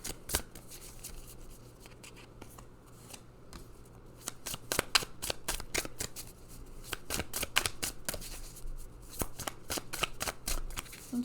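A deck of oracle cards being shuffled by hand during a card reading, with rapid, crisp riffling snaps repeating in quick bursts at a quiet, close level and no voices.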